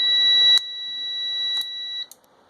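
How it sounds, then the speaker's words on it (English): A multimeter gives a steady high-pitched electronic beep tone continuously for about two seconds as an Arduino-switched relay turns on, with a few soft clicks along the way, then cuts off abruptly. "I will press the switch now and the relay is turned on and the multimeter is beeping"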